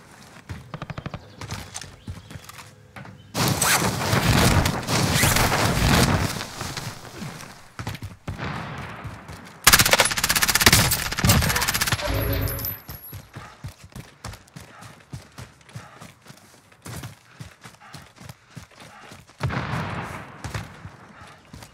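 Gunfire in Call of Duty Warzone, heard as bursts of sharp repeated shots in dense volleys over a busy battle mix, with loud stretches broken by quieter gaps and scattered single cracks.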